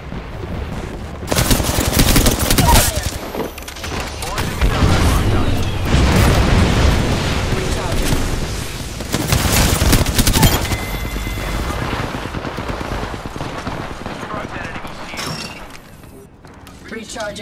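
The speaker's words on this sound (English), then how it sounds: "Being shot at." Gunfire and explosions in a video game shooter, heard as rapid automatic bursts and heavy booms that come in waves over about seventeen seconds, with character voice lines mixed in.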